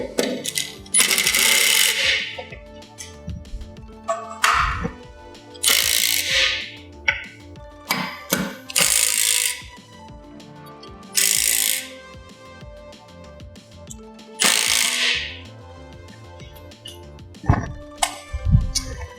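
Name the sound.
tightening down TV wall mount bolts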